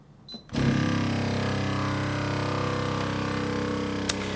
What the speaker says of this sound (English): When the chamber is going under vacuum, you'll notice the lights on the progress bar increase.